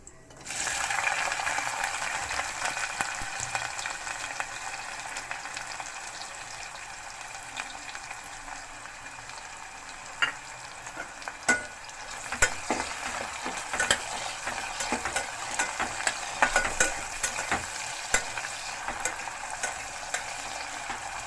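Chopped onions frying in oil in a pan for snake gourd biryani make a steady, close sizzle with occasional sharper crackles and stirring scrapes throughout, and no talking.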